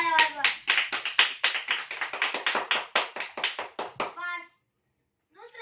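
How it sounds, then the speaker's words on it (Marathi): Schoolchildren in a classroom clap together for the top-scoring classmate, Sai, in a quick run of loud, sharp claps that stops after about four seconds. Brief voices follow the clapping. "टाळ्या वाजवा."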